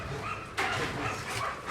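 An athletic, strong dog at a kennel yard keeping bandogs and pit bull terriers whimpers softly, then lets out a sudden sharp bark followed by whiny yips, close by.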